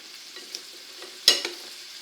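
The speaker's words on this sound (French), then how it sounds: "il ne nous reste plus qu'à mélanger tout ça" Red cabbage salad with apple, walnuts and lardons being tossed in a dish: a short, quiet stretch of soft rustling scrapes with one sharper clink near the end.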